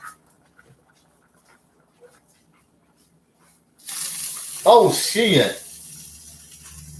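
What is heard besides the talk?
water spilling from a bathroom tap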